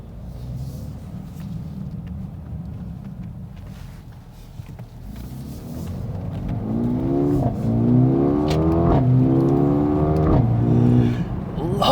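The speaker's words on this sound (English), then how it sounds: "Love that exhaust note. It's quite unnerving for a little car to sound that good." A Mercedes-AMG A35 hot hatch in Sport Plus mode, its four-cylinder exhaust droning low at first, then swelling into a loud, rising note as the car accelerates hard through the gears close by.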